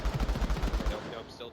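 Rapid automatic gunfire in the VR shooter Onward during a competitive match, about eight quick shots in a steady burst lasting under a second, then a short fading tail.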